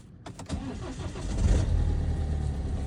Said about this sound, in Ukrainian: зараз заведу, блін, машину, блін, трошечки хай прогріється